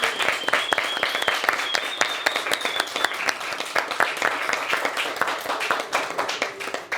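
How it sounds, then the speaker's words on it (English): Steady round of applause from an audience at the ACMies 2025 award ceremony, dense overlapping claps of moderate loudness that go on without pause. "Give her a round of applause."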